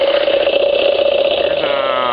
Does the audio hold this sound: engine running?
yes